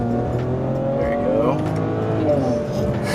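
A BMW 335i's N55 twin-turbo engine revs hard and climbs through its range, loud and steady, with a voice faintly audible underneath.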